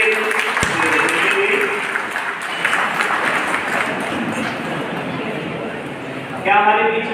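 Audience applause at a stage ceremony, a steady wash of clapping across the whole stretch, with a voice speaking briefly near the end.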